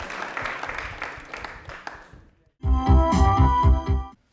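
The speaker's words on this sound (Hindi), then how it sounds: "तालियां प्लीज एक बार जोरदार" Studio audience applause at a Doordarshan Rajasthan question-and-answer show, a short dense burst of clapping that follows a quieter stretch of scattered taps and room noise.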